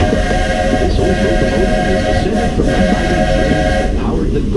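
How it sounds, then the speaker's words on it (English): Steam locomotive of the Walt Disney World Railroad at Magic Kingdom rolling along with a steady loud rumble and rhythmic clatter, plus sustained tonal hiss, heard from aboard the train. "By the way, we're traveling on pure steam power."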